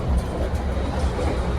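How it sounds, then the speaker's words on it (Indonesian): A Sangkuriang executive train, a 2018 carriage departing Yogyakarta, rumbles steadily from inside the coach, a deep continuous rolling drone with faint rhythmic bumps, close and unbroken with no talk. "Kereta api Sangkuriang yang saya naiki sudah berangkat dari stasiun Yogyakarta"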